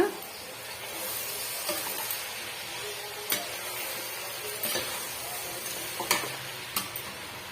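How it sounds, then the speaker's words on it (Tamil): Chopped coriander and mint leaves sautéing in a pot for vegetable biryani, a continuous soft frying hiss with occasional clicks and scrapes of a stirring spoon, no talk. "இப்போ நம்ம கட் பண்ணி வச்சிருக்க கொத்தமல்லியும் புதினாவும் சேர்த்துக்கலாம் சேர்த்துட்டு நல்லா வந்து வதக்கி விட்டுக்குங்க"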